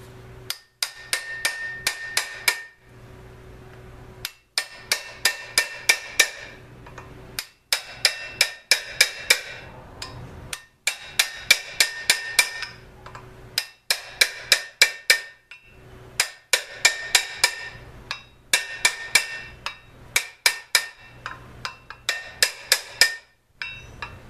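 Wheel studs on a 1985 Toyota 4x4 pickup front brake rotor are tapped in lightly with a hammer, bursts of quick, sharp metallic taps in groups of six to eight, separated by brief pauses, repeating steadily.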